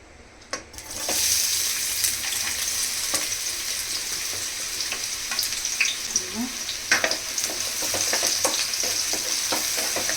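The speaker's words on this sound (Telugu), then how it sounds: "ఈ ఆనియన్స్ కొంచెం ఫ్రై అవ్వాలి దోరగానా." Onions and green chillies frying in two tablespoons of oil in a pan, a steady close sizzle running throughout with occasional clicks and scrapes of stirring.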